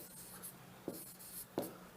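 Chalk or marker strokes on a board during a Hindi grammar lesson, with two sharp scratchy taps standing out against a quiet room and a faint hiss, no voice heard.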